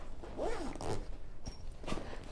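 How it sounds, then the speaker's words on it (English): A backpack zipper drawn closed by hand while packing for travel, two or three quick rasping pulls close to the microphone against light room noise, with no talk. "Zips right up."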